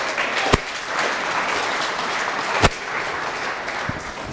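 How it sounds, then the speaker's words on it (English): Audience at a live startup pitch event applauding after a company's pitch, a steady, even roar of many hands clapping with a couple of sharper thumps near the microphone. "Okay, round of applause."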